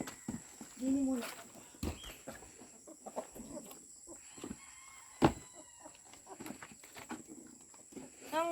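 Chickens on a small farm being given breeder feed, scattered clucks and short calls near and far amid rustling, with a person speaking softly.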